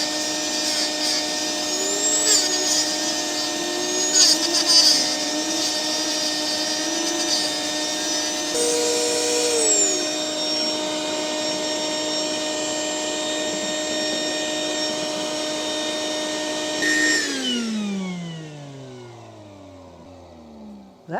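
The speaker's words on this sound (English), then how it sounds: "I'm going to be using a Dremel and it's going to be throwing dust" A Dremel rotary tool cutting on an ROV project gives a loud, steady high whine for about seventeen seconds, then winds down as it is switched off, over the constant hiss of a running vacuum cleaner.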